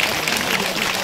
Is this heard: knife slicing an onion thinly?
no